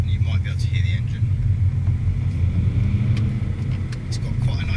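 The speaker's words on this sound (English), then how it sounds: "you might be able to hear the engine" A 2014 Mini Cooper SD 5-door hatch on the road gives a steady low engine drone under continuous in-car road rumble, with no rising revs.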